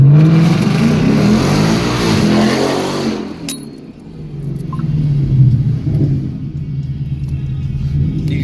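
A 2018 GT car with traction control off and wheels spinning roars loud and close for about three seconds, then drops to a lower, steady rumble as it pulls away.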